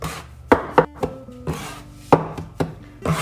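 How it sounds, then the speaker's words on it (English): Pasta frolla tart pastry dough, made with egg and butter, being worked by hand, giving soft irregular slaps and presses against a surface with quiet rubbing between them, close and alone. "we'll be able to start really working our dough"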